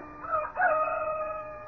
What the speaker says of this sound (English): beckoned by a rooster somewhere,